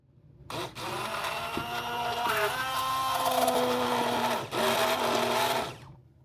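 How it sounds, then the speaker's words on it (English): An immersion blender whips tallow body butter with frankincense and vitamin E, a steady close motor whine that starts abruptly, runs for several seconds with one brief dip, then cuts off. "So I'm going to use the immersion blender,"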